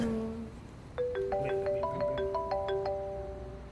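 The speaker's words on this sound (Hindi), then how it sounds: "संडू किसका फोन आ रहा है?" A melodic phone ringtone plays a repeating sequence of bright tones, fairly loud and close, with no talking over it.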